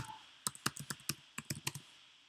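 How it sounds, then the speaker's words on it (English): Typing on a computer keyboard, about a dozen quick, crisp key clicks in an uneven rhythm, close and fairly quiet, with no voices. "So type the name of my movie"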